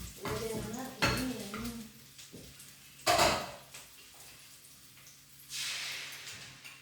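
Food frying in a pan gives bursts of sizzling, with utensil clatter and stirring scrapes between quieter stretches, close by.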